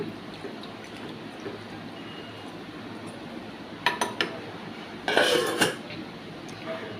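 A metal spoon clinks a few times against a pot, then scrapes around it briefly, over a quiet background hiss.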